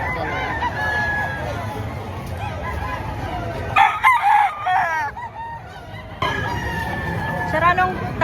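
A rooster crows loudly at a busy chicken market, with several drawn-out calls cutting through crowd chatter and background babble, people talking nearby.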